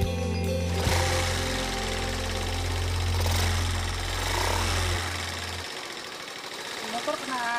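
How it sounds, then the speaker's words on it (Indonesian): A motorbike engine running rough with an off sound despite a recent service gives a steady, low, uneven rumble for several seconds, then cuts out, leaving faint background noise. "Motor kenapa sih ya?"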